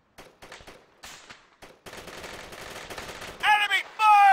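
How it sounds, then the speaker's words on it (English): Enemy gunfire in Halo Reach: scattered single shots and short bursts give way to a sustained crackling volley. Loud, bright tonal blasts cut in at the end. "Enemy fire!"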